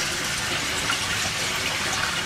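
Water pours steadily into an aquaponics fish tank as it refills, a dense, constant rushing gush close by with no pauses and no voices.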